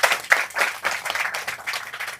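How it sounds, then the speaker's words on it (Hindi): An audience at a Hindi devotional talk about Krishna's name gives a loud burst of applause, a dense, close crackle of many hands clapping that swells and fades over about two seconds. "इसीलिए उनको जोरदार तालियों के साथ आप सब लोग उनको"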